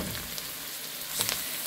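Chicken pieces frying with butter in a pan with softened onion for white pilaf, giving a faint, steady sizzle with a few crackles near the end.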